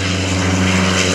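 Van's RV6 propeller aircraft passing at an airshow, a loud, close, droning engine and propeller hum with a strong steady tone throughout the brief moment.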